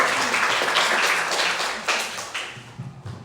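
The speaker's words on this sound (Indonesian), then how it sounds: "tepuk tangan dulu untuk kita semua" Audience applause fills the room, a dense spread of hand claps that gradually thins into a few scattered, fading claps at the end.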